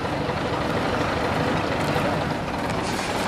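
A classic bus engine runs at a rally at Winkleigh, a loud, steady, rumbling idle close by that fills the whole moment without a break.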